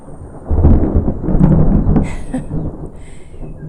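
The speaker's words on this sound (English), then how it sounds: "the storm's getting very loud" Thunder from an approaching storm rolls outdoors on a very hot day. A loud, sustained rumble builds after a brief lull and keeps grumbling for several seconds, with faint higher chirps near the end.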